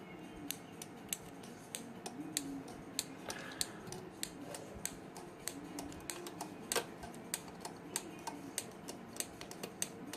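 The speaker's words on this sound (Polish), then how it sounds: "w tym momencie klika nam przekaźnik" A relay in a 50%/50% cyclic timer circuit board clicks repeatedly, sharp close ticks in an uneven series over a faint steady background hum, with no talking.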